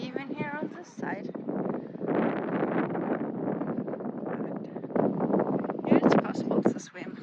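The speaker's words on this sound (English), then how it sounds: "It is quite windy even here on this side." Wind buffeting the microphone on a path down to a small beach on Menorca, a steady rushing roar with gusts under someone talking.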